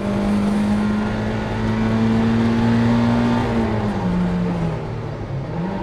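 Mazda MX-5 race car in a Roadster Cup race, its engine droning steadily and loud at high revs, the pitch holding then dropping as it shifts and eases off, with another car faintly audible alongside.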